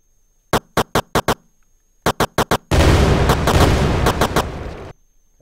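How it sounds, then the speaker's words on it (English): Rapid weapon-fire sound effects for a side-scrolling shoot 'em up game: two quick volleys of sharp, evenly spaced shots, then a loud, sustained roaring barrage with more shots punching through before it cuts off. "let's add the fire sound"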